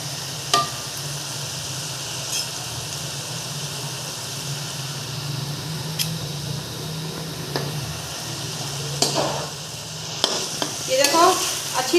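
Potato and egg mixture frying in a pan, a steady close sizzle with occasional spatula scrapes and a low hum underneath, busier stirring clatter toward the end, no voices.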